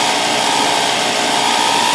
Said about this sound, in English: we graduated to the next size drill now